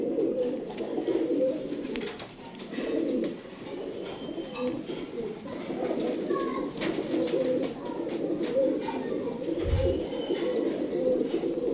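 Pigeons coo in a loft where a female has been released among the males, soft throaty cooing rolling on continuously and close, overlapping calls with a few faint chirps behind.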